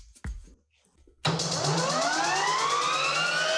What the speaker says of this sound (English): you can hear it's a jet.